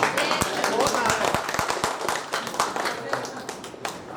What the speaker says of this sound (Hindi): आइए आप लोग थोड़ा ताली बजाइए